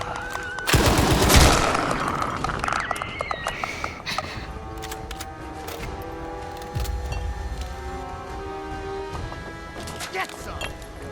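Gunfire in the video game Fallout 4 as Gunners attack in Diamond City, a loud close burst of rapid shots followed by scattered shots and metallic rings, with voices shouting over it.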